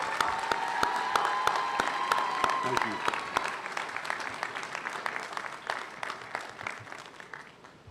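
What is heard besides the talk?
round of applause for faculty at a graduation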